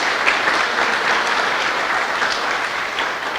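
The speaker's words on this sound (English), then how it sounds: "Please give a round of applause to the Calaveras Council of Governments." Steady applause from an audience at a policy conference, a dense continuous clapping that holds at even loudness throughout without a break.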